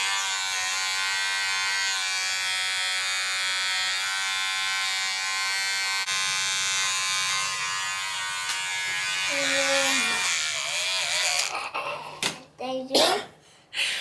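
Electric hair clippers buzz steadily and close up while cutting a boy's thick hair at home, with a continuous hum for most of the clip before brief handling noises, taps and a voice break in near the end.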